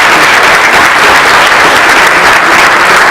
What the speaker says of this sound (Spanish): Pues le damos un aplauso a Carmen.